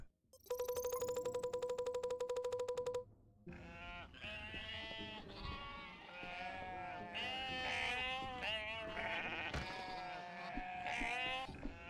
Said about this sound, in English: In the next corridor, I ran into 250 sheep.